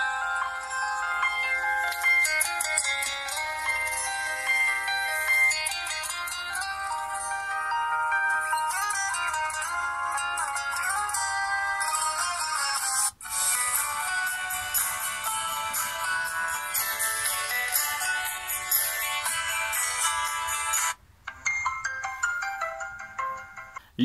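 LEAGOO Z10 smartphone ringtone playing on an incoming call: a bright electronic melody that runs continuously and loud for about twenty seconds, with a brief gap near the end before it resumes, heard alone with no talk.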